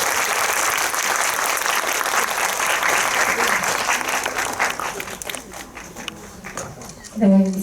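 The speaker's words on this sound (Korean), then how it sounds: "다 참석하실 때까지 조금만 더 길게 박수를 할까요?" Continued applause from a cinema audience greeting the cast and director of Miss Baek at a Megabox COEX talk event: steady crowd clapping that tapers off, with some voices underneath and a brief louder burst at the end.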